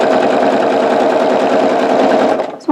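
Sewing machine fitted with a walking foot and open toe foot stitching strips of a scrap string quilt, a steady close rapid mechanical whir that runs without a break and stops abruptly near the end.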